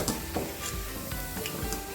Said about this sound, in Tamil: அப்படியே பொரிச்சு எடுத்துக்கலாம்.